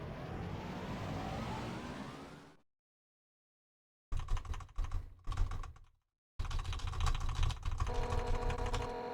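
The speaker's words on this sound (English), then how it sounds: "you guys hear me spamming my keyboard?" A computer keyboard is hammered in rapid bursts during Undertale play, dense clattering key presses near and loud, broken by short silent gaps, after a fading engine-like drone.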